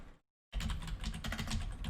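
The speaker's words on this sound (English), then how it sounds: "Sorry, typing my opponent here." Fast typing on a computer keyboard, a dense, close run of clicky keystrokes starting after a brief silence and continuing steadily to the end.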